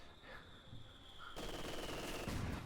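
Machine gun fire in the strategy game Company of Heroes 2, a quiet, distant rattle of rapid bursts that grows denser partway through under a faint ambient hum.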